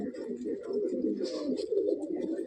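Low, rolling coos from an aggressive adult Allahabadi Kaldum pigeon run continuously throughout, close and fairly steady, with a brief brighter rustle partway through.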